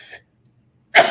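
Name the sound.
person sneezing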